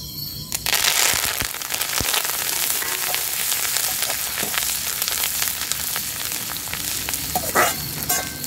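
Peanuts and curry leaves fry in hot oil, giving a loud, steady crackling sizzle with sharp pops and spits throughout, close by and with no talk over it.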